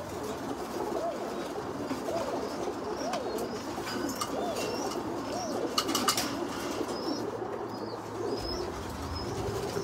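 Spinner pigeons in a loft give soft, overlapping coos that repeat throughout, with a few higher chirps and wing sounds mixed in over a steady low background hum.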